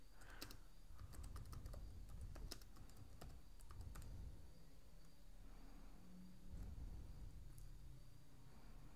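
Keys clatter on a computer keyboard while text is typed into a PowerPoint slide, a quiet, close, irregular patter of keystrokes in bursts with short pauses, alone.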